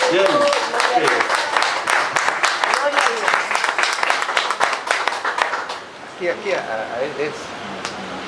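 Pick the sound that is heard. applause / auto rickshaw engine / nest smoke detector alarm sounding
applause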